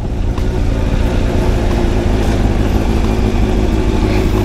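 A Honda CBR project motorcycle engine runs loud and close with a steady, smooth rumble, holding a constant rev for the whole stretch with no voices.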